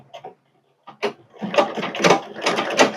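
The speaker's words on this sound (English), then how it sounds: "and then I'm going to sew on the left side." A zigzag sewing machine stitching the left side of a buttonhole, its needle running in quick repeated mechanical bursts that grow steadier and louder after a couple of brief starts, close and alone.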